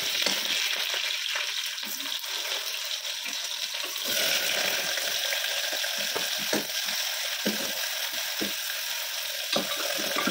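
Food cooking in hot oil during home meal preparation, a continuous steady sizzle with scattered clicks and scrapes from stirring, no talk.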